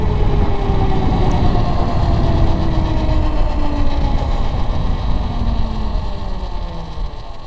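Electric-swapped Grom motorcycle running, giving a steady, loud, whining motor hum like an RC car, with gently sliding tones as speed changes, continuous throughout and with no talk.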